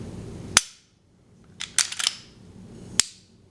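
Sharp, isolated metallic clicks from the trigger of a Glock 27 Gen 4 pistol being reset, a single snap, then a quick cluster of clicks, then another single snap, close and crisp in a quiet room.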